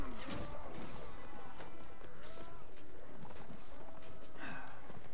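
Horse hooves gallop amid a chaotic battle in the Mount & Blade Warband video game, with rapid thudding hoofbeats mixed with clashes, crashes and other combat noise, all fairly faint and dense.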